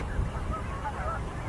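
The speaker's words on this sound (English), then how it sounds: "Pintails, mallards, American widgeons," A flock of pintails, mallards and American wigeons calls from a flooded low spot, faint scattered honking and whistling notes over a steady background hum.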